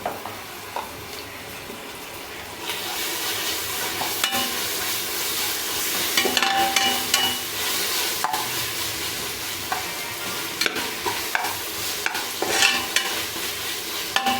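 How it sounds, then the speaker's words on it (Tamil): Ginger garlic paste fries in hot oil for a home-style biryani, a steady crackling sizzle broken by frequent sharp spoon scrapes as it is stirred around the pan, with no one speaking. "நல்லா மிக்ஸ் பண்ணி விட்டுக்கோங்க. நல்லா எண்ணெயிலே வதங்கட்டும்."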